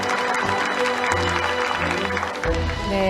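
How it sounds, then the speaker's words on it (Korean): An audience at a formal Korean public event gives a warm round of applause, a dense, steady clatter of many hands lasting a few seconds, with a faint tonal backdrop beneath. "좋은 말씀 들려주신 두 분께 다시 한번 따뜻한 박수 부탁드립니다"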